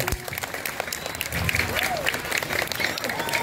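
Audience applause at a comedy show, a fairly faint crowd clapping mixed with some voices and background sound.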